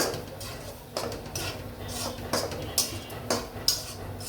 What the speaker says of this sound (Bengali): শাকটা আমি কষিয়ে নিই আমি শাকটি লাড়া দেবো